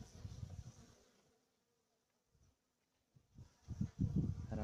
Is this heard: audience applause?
no